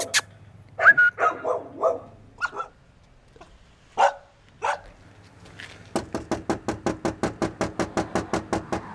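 A dog barks a few times from somewhere around a residence during a police visit, moderately distant with quiet gaps, followed by a quick, even run of sharp knocks.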